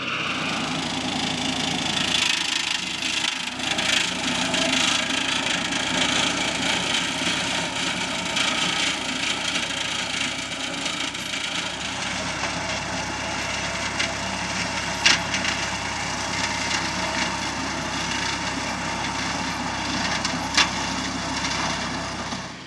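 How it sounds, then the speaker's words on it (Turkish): A tractor mows grass in a rural field in late spring, a steady engine drone running throughout with a broad, rough mechanical hum and scattered rattles, fairly close and continuous with no talk. "Traktörle biçiyor."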